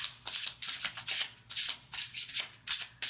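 Tarot cards are shuffled in quick repeated riffling bursts, crisp and close, with short pauses between passes.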